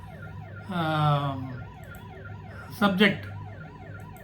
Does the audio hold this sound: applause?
no